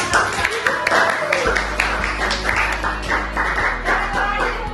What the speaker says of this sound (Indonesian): Oke, tepuk tangan buat kawan.